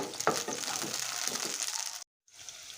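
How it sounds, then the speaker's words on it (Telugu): Green chilies fry in oil in a pan for mint chutney, giving a steady, moderately loud sizzle and crackle that stops briefly near the end, with no talk. "వీటిని అయితే ఈ ఆయిల్లోనైతే బాగా అయితే ఫ్రై అయితే చేసుకున్నాం."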